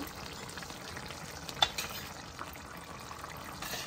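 Prawns and tomatoes cook in a pan for a curry with a steady, soft sizzle, stirred now and then, with one sharper scrape of the spoon near the middle; no one speaks.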